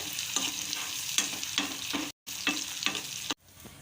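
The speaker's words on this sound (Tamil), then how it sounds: "இப்போ இது வந்து ஒரு ரெண்டுலேருந்து மூணு நிமிஷத்துக்கு நம்ம நல்லா வதக்கிக்கலாம் இந்த வெங்காயத்தை" Small onions are sautéed in a pan, soft sizzling broken by quick rhythmic scrapes of a spatula, nearby and fairly quiet, with two short silent cuts.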